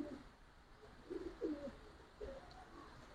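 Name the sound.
Giribaz pigeon cooing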